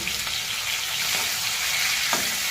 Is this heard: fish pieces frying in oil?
yes